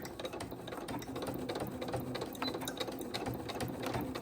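A sewing machine back-stitches through silk flag fabric with a rapid, steady mechanical chatter, close and fairly quiet, with no voices.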